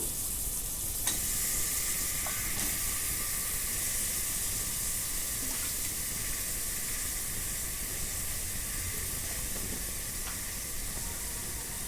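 Chicken masala with turmeric and yogurt sizzles steadily in an open pressure cooker over high heat, a dense constant hiss with a few faint scraping stirs scattered through.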